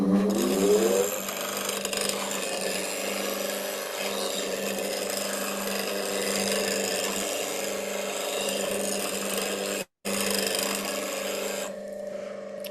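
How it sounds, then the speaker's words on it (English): A woodturning gouge is sharpened on a bench grinder, giving a steady, loud grinding rasp over a constant motor hum. The grinding cuts out for a moment near the end, then resumes more faintly; no one speaks. "give me 2 seconds while I just touch that up on the grinder"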